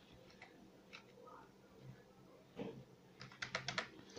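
Keys tapped on a computer keyboard during a basic computer lesson, a few scattered clicks early on, then a quick burst of four or five keystrokes near the end, fairly faint in a quiet room.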